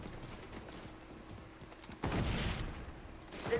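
Rapid SMG gunfire in the shooter game XDefiant: a dense burst of shots breaks out suddenly about midway, loud and close over low background game noise, with another short flurry near the end.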